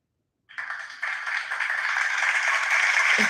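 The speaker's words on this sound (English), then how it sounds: "Sure, I'll give you a clap." A canned clapping sound effect played during a live stream starts abruptly and swells into steady, dense applause that holds until it cuts off, heard alone without speech.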